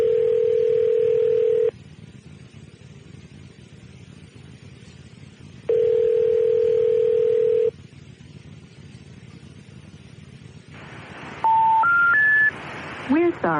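A telephone line gives two long steady dial-tone bursts, followed by a quick run of touch-tone beeps as a number is keyed in, over a faint background hiss.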